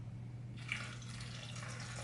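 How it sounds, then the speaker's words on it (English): Water poured in a circular motion over coffee grounds in a Toddy cold brew system, a soft, steady trickle and splash that starts after a moment of quiet hum and continues faintly. "we're gonna pour the water over in a circular motion."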